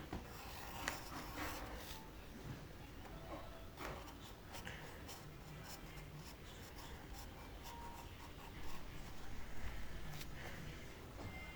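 A pencil is drawing on paper with soft, scratchy strokes in short repeated bursts, quiet and close, running on with no talking over it.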